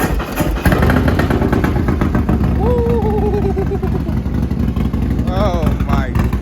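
A 2020 Harley-Davidson Road Glide fires up and runs with a loud, raw, rumbling engine note throughout. Several people exclaim and whoop over it.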